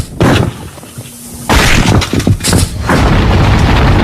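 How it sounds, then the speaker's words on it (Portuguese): Loud cannon-like booms and crashing impacts from a cannon fired at a bowling ball, with a short thud early on, then a sustained roaring blast filling the rest. "Você mandou muito bem apontando o canhão para a bola de boliche."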